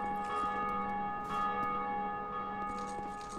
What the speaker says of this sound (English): Oh, it's ringing both the bells.